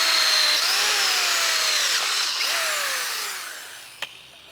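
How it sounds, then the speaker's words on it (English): A power drill whines steadily at high speed, its pitch dipping briefly as it bites into a metal plate drilling a center hole, then winding down to a sharp click. "I'm going to drill the center hole out at the same size"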